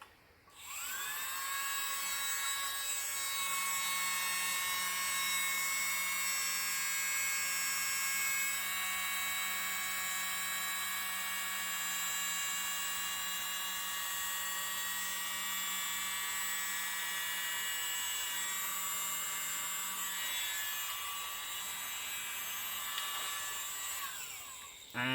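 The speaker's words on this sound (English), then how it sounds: "Now let's hope this little blower does what I want it to do." A small new mini blower whines at a high, steady pitch for about twenty seconds, starting and stopping abruptly, close and fairly quiet with no talking.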